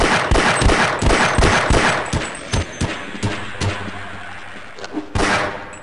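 Shotgun blasts in the Half-Life video game: a rapid series of loud, booming shots in uneven bursts, some close together and others spaced out, with a brief pause before a final heavy blast.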